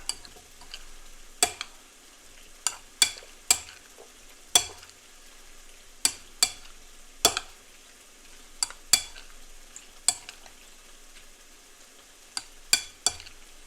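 Macaroni with a smoked Swiss and cheddar cheese mixture tossed in a pan, giving a series of sharp metallic clinks and scrapes at irregular intervals over a faint simmering background, close and with no talking.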